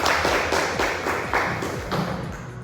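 A classroom of students clapping in a rhythmic pattern of sharp, evenly spaced bursts, close and fairly loud, with no talk over it.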